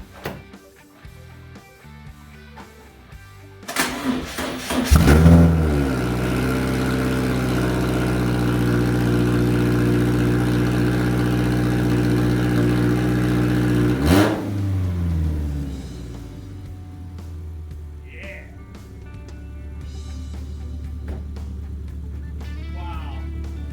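A Subaru EJ engine with only a header and no exhaust fitted cranks over and catches, then runs loud and steady at a rough idle for about ten seconds before the revs drop and it settles at a lower idle.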